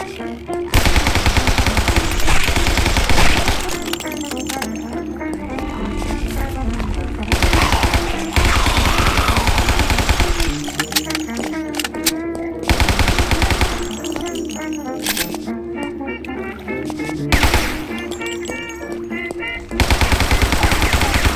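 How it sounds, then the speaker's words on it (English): A Tommy gun fires in the video game Guns, Gore & Cannoli, loud repeated bursts of rapid automatic gunfire in several long volleys with brief pauses between them, dense and close. "Nothing beats that good old Tommy gun."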